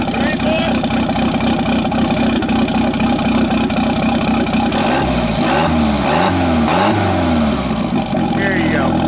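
Car engine revving repeatedly with its turbo failing to spool, loud and close, rising and falling revs over a steady idle while people talk.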